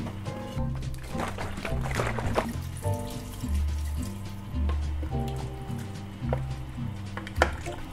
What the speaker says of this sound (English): Then we're going to add our vegetable stock.